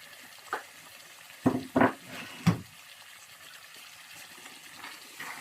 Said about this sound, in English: So this is the meat stock. I'm going to add it.